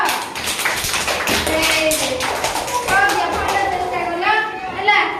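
Children in a class clapping their hands slowly in a group, irregular taps mixed with an adult's voice and children's chatter under the steady noise of the room.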